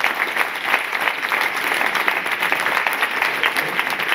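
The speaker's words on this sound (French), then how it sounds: "qu'on remercie nos intervenants en les applaudissant par exemple" Audience at a round-table discussion on spa therapy applauds the speakers, a steady, dense round of clapping throughout, with little talk.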